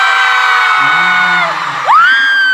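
Loud whooping and yelling from a concert crowd of fans at a K-pop group's fan meeting, a sustained wall of high shrieks with swooping pitch rising near the end.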